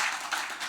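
Round of applause from an audience at a nature conservation awards ceremony, a steady wash of many hands clapping at moderate level throughout, with no voices over it.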